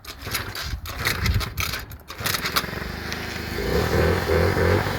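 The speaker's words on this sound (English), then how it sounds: "Now, will the Yamaha JOG be nice and start?" A Yamaha JOG scooter's small engine catches after scraping kick attempts, then settles into a steady, close idle that grows slightly louder toward the end.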